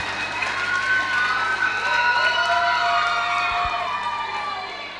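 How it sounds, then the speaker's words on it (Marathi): Audience applause and cheering after a couple dance at a lively event, a broad steady wash of clapping and crowd noise holding for several seconds before tapering off slightly at the end. "जोरदार टाळ्या जाऊ दे."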